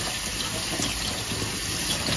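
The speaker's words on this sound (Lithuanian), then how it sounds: "dabar paskutinį kartą aš praplaunu juos protekančiu šaltų vandenį" Cold tap water runs steadily, a constant rushing splash as pork ribs are rinsed beneath it.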